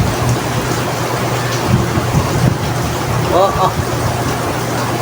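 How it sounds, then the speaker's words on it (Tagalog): Heavy rain pours steadily throughout in a broad constant wash, with a faint low rumble that may be distant thunder, while people talk nearby over it. "Lumakas na naman ang ulan, no."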